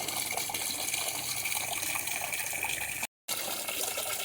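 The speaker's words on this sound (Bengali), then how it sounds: "সব ময়দাগুলি ধুয়ে যাচ্ছে" Flour dough being washed in water gives a continuous close sloshing and running-water rush, steady throughout with a brief dropout near the end.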